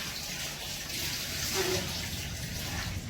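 Tap water running steadily into a sink for rinsing, a continuous close hiss and splash with slight swells, with faint background sound and no clear speech.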